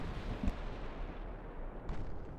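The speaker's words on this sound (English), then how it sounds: "We're already taking return fire from, I think, potentially secondaries." Naval artillery fire in a battleship game: dense low rumbling booms with two sharper reports, one early and one near the end, over a continuous heavy roar.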